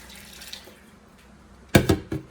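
Water from a Temu mini washing machine drains into a sink: a quiet hiss at first, then a few loud splashing gushes near the end, with no talk.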